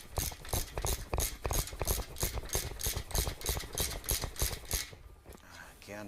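A ratchet tightens Vance & Hines slip-on exhaust hardware, a rapid, regular clicking that runs close and steady for about five seconds before stopping, followed by faint handling noise.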